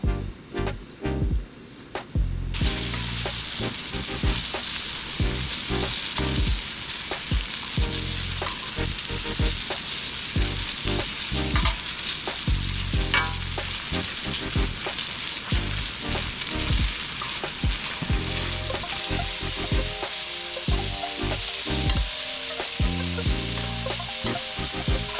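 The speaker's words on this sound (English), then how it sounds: "I'm gonna fry it about a minute or so on each side. I wanna get it crispy." Strips of beef fry for Mongolian beef, crisping in a hot pan with loud, continuous sizzling and spattering oil, broken by occasional stirring and scraping, with no one talking.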